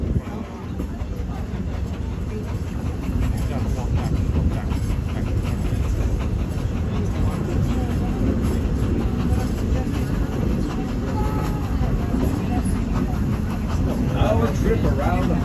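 The Walt Disney World Railroad train rolls steadily along the track around the Magic Kingdom, a continuous low rumble with faint rhythmic rattling heard from onboard, unbroken for the whole stretch.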